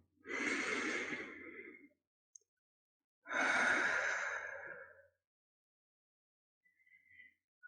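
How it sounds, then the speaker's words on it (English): Two long, slow, deep breaths taken close up, each a breathy rush lasting a couple of seconds with a pause between, then a faint trailing exhale at the end. "noticing the subtle ways that your body shifts simply by taking those deep breaths in"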